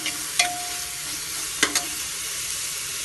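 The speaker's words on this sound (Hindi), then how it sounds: "तब इसको हम हिलाते रहेंगे।" Onions fry in a little oil in a pan for a chicken dish, a steady close sizzle with a few sharp scrapes and taps as they are stirred.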